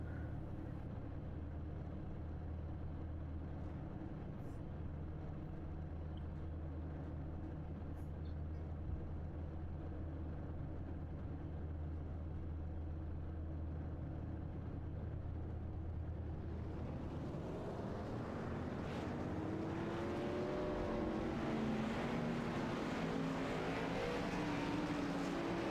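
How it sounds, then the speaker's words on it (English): Race cars in the iRacing video game roll off the starting line in a K&N ARCA series race, a steady low engine drone that grows into a louder, rising roar of many cars near the end. "we're listening to these cars, man, take off the starting line here"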